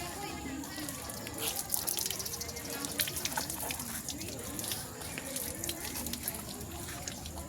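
Water being poured over a body to rinse it during ritual washing of a corpse. A steady, moderately faint splashing and trickling continues throughout.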